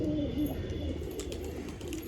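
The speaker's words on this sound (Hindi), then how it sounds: "ये वो कबूतर है जिसका पेयर लगाया है मैंने" A pigeon coos in a low, steady murmur that runs through the whole moment, soft and continuous against faint background noise, with no voices present.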